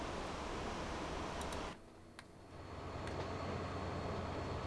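Continuous rumbling noise of a freight train in a video game runs throughout, dipping quieter briefly in the middle before returning to a steady roar.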